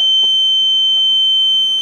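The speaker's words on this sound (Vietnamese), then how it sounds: "dù rằng tôi đóng cửa vào chăng nữa còi vẫn kêu" The siren of an SMS remote-controlled door security system sounds after the front door is opened. A loud, piercing, steady electronic tone holds unbroken from start to finish, very close, with a faint click near the beginning.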